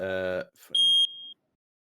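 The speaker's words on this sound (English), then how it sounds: "We've got a little smoke alarm interlude." A single high-pitched smoke alarm chirp sounds close and loud for about half a second, right after a brief bit of talking.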